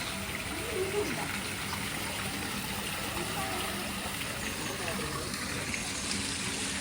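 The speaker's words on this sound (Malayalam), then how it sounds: "ഇവിടെ വെള്ളച്ചാട്ടം ഓണാക്കി." An artificial waterfall at an indoor play area, switched on and giving a steady broad rush of gushing water that fills the background, with people talking over it.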